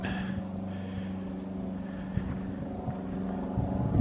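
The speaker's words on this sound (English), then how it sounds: "Probably just some people out sightseeing, flying over the mountain." A light sightseeing airplane passes over a mountain, its distant propeller engine drone steady and continuous throughout, heard outdoors in a quiet backcountry setting with no talking.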